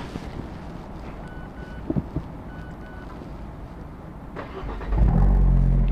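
Wind buffets the microphone for several seconds, then an Abarth 124 Spider 1.4 MultiAir engine cranks and fires into a loud, deep, rumbling idle near the end.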